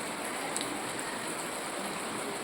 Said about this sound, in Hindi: तो देखिए यहाँ पर 2 दिन से बारिश हो रही है